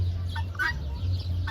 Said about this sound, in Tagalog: Ayun, ang daming birds.